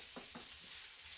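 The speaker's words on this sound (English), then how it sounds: "You just want to gently cook the onion and garlic" Onion and garlic cook gently in a pan on medium-low heat, a soft, even sizzling hiss over a brief moment with a couple of faint stirring bumps.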